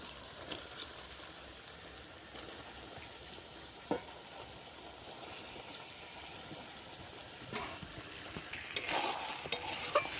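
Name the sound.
meat added to fried potatoes and spices in pan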